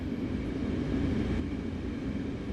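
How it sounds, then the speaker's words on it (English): A Metrolink MP36PH-3C diesel passenger locomotive in Train Sim World 5 runs steadily on the San Bernardino line, a constant low rumble and rail drone with no break, no voices. "This train is powered by a Metrolink MP36PH-3C locomotive"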